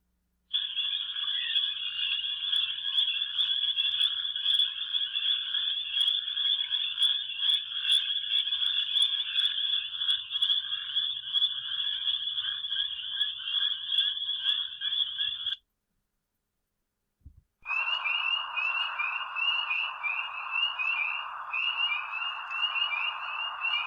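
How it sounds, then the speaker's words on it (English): A dense chorus of spring peeper frogs sends out continuous high, piercing peeps. The chorus cuts off briefly, then a second full chorus resumes, with no voices. "Peepers are our most abundant frog species and are usually heard calling in a full chorus."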